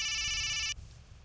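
A phone rings with a steady electronic tone that cuts off abruptly partway through, followed by a short quiet pause and a faint click near the end.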